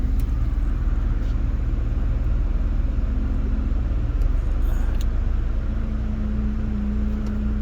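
A van engine idles with its roof air conditioning running. A loud, continuous low rumble and hum holds steady from start to finish, with no voices.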